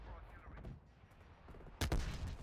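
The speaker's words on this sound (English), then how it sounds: "their teammate right there is just shooting, hoping that they're gonna get a kill" Gunfire in Call of Duty: Black Ops Cold War crackles faintly in the background, then a sharper, louder burst of shots lands near the end of the short stretch.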